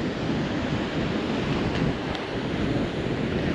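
Surf rolls and rumbles along the south coast of Java, a steady broadband wash of breaking waves mixed with wind buffeting the microphone, continuous and fairly loud with no voices.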